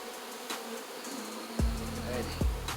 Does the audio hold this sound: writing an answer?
no